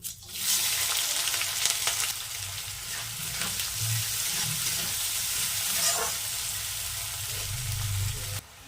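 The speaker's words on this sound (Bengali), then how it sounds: "পেঁয়াজটা হালকা হালকা করে ভাজা হয়ে এসেছে" Chopped onions sizzle steadily in hot oil with whole cumin, close and constant, with occasional scraping stirs of a spatula in the pan; no talking.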